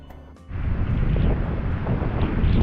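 Strong wind from an approaching storm buffets the microphone, starting after a brief quieter moment and then roaring on as a loud, steady, gusty rush close by.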